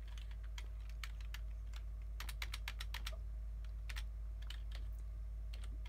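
Keys clatter on a keyboard used to enter menu information on a Fostex CR500 CD burner, with quick irregular bursts of close clicks over a steady low hum.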